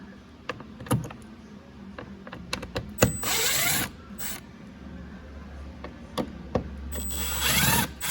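Hand tools working on the engine air filter housing of a 2018 Chevrolet Silverado 1500, with scattered clicks and taps, a couple of brief whirring bursts and a low hum partway through, fairly close.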